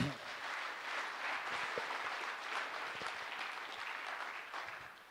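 Conference audience at the closing ceremony of the 2nd Eastern Africa Agroecology Conference breaks into sustained applause, a dense, even wash of many hands heard from a distance, fairly quiet and steady before tapering at the end.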